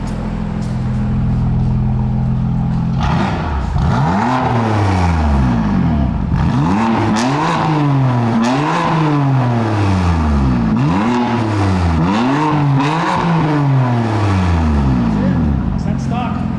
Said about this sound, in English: Loud for a stock car. Not that loud for a modified. Typical F80, F82 sound.